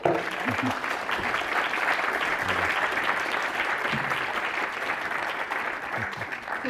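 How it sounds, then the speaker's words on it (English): A room full of people gives a sustained, even round of applause for a film before a question-and-answer session with a Colombian director, with a few faint voices underneath. "can I have a round of applause for this beautiful film?"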